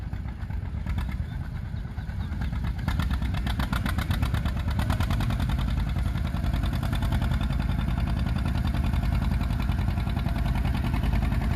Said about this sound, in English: All right, first pull for this tractor today